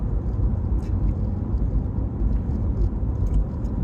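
Steady low road rumble from cars queuing in traffic on a damp February day in England, continuous and close, like hearing the road from inside a vehicle, with brief faint higher noises and no clear talk.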